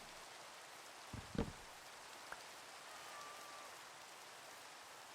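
Quiet, even rain patter in the video game Minecraft, a low continuous wash with a couple of brief soft knocks and no talking.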